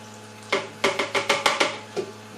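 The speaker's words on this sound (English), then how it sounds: "and we'll pour our cherries in." Cherries tumble from a container into a new blender jar for a homebrewed cherry fruit beer: a quick run of about seven close, distinct thuds and clatters, with a short pause before a final drop.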